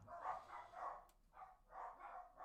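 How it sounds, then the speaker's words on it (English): Dogs bark repeatedly in a steady series of muffled, mid-distance barks, with a short pause partway through. "let these dogs bark"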